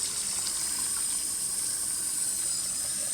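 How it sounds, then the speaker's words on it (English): Hot water runs steadily from a household tap into a container for steeping kava, a constant hissy gush with no talk over it. "we got pretty hot tap water here"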